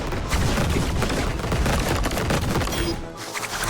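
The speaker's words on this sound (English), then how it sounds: "Got some fireworks." Animated fireworks go off in a dense, loud barrage of rapid crackling bursts and booms, continuous for a few seconds before briefly easing off.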